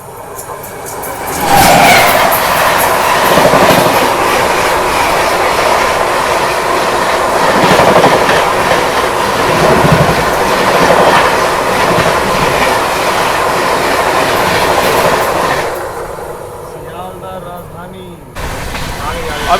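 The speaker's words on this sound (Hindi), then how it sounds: "तो अभी क्रॉसिंग के लिए आ रही है सियालदह राजधानी एक्सप्रेस।" Sealdah Rajdhani Express rushing past on the adjacent crossing track, heard from inside a moving train: a loud, sustained roar with rapid clickety-clack of wheels that cuts off abruptly near the end.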